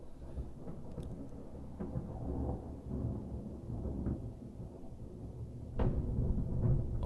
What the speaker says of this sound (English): The sound of the thunder.